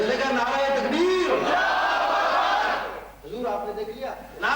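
A crowd at a 1990 religious gathering in Bolton roars the Islamic slogan Nara-e-Takbir in unison, a loud sustained collective shout that fades, then rises again in shorter bursts near the end.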